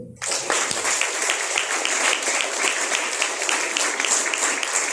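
A school audience at a National Science Day programme claps for children standing on stage, starting abruptly and continuing as loud, dense, even applause that stays close and steady until the end.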